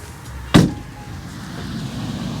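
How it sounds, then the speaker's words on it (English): The heavy rear door of a 2024 Mercedes-Benz Vito van shuts with a single solid thud, followed by a low, quiet background hum. "This unnecessarily gargantuously heavy door."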